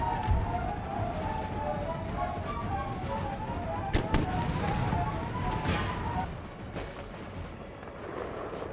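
Steady crackle of musket fire from infantry lines in an Empire: Total War battle, dense popping with a few sharper cracks near the middle, continuous battle din throughout without speech.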